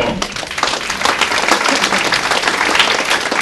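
Loud, sustained applause from an audience at an award ceremony, steady dense clapping filling the whole stretch without a break.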